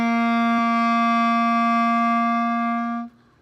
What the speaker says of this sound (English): Here's C.